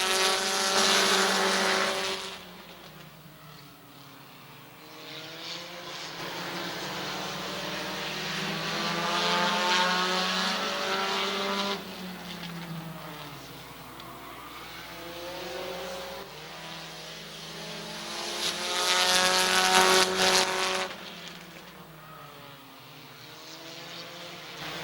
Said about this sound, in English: Nolan Caldwell going to be your race leader on lap number 1